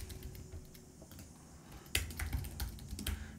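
A name is typed on a computer keyboard as a run of quick, close key clicks, sparse at first and then denser and louder toward the end.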